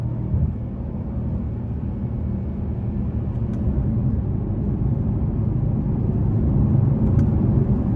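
A 2018 Mercedes-AMG C63 engine runs as a steady, deep, moderately loud rumble that swells slightly toward the end, with no talking.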